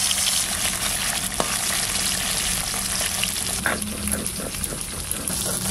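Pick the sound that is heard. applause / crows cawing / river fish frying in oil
river fish frying in oil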